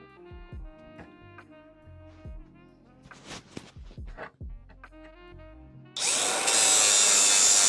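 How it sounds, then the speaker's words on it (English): A power tool grinds metal on a car being fabricated for a turbo engine swap in a garage, starting as scattered clanks and short whirs, then a loud, steady grinding roar close by for the last couple of seconds. "There's quite a bit to grind away actually."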